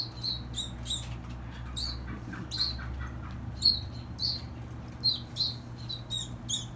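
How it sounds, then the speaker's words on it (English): Two young fledgling robins brought into a wildlife care centre give repeated high, sharp chirps and squeaky calls in irregular bursts, close and fairly clear over a low background hum. "We get lots of baby birds brought in, but these two robins were something special."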